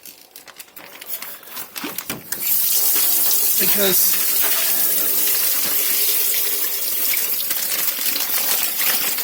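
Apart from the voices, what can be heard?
tap running, washing something off with cold water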